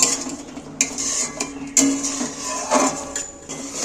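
Yogurt is stirred into a spice masala in a cooking pan for a chicken curry, with irregular close metallic clinks and scrapes of a spoon against the pan over a low background hiss.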